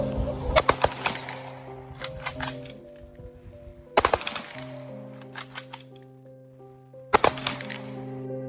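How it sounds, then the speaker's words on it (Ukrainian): Three sharp rifle volleys from a military honor guard ring out at spaced intervals at a funeral, each a cluster of cracking shots with echoes, over sustained solemn music. "почесна варта виконала останній військовий салют."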